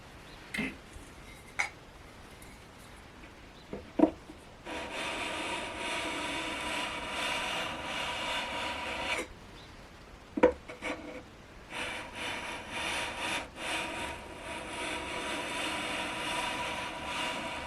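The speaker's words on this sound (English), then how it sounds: "More sanding required." Steady, broad abrasive rasping of sandpaper rubbed along a wooden guitar fretboard, continuous for long stretches with a few brief pauses and small knocks between strokes.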